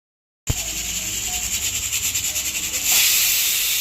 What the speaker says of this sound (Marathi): चला आपली एक शिट्टी झाली, आपण लगेचच गॅस आता बंद करून घेऊया